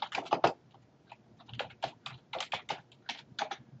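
Rapid, uneven keystrokes on a computer keyboard while text is typed into a document table, clicking close up in short bursts with brief pauses and no voices.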